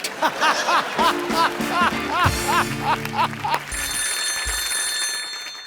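A telephone rings repeatedly in a steady, close pattern of rings on a comedy show stage, heard over studio laughter and background voices, ending in a sustained electronic tone.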